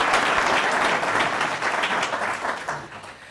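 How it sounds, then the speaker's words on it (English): An audience applauds a panel at a civic discussion program, a dense, steady round of clapping that holds for a few seconds and begins to taper off, with no talking over it. "Let's give our panel a round of applause."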